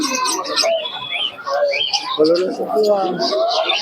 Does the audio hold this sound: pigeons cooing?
yes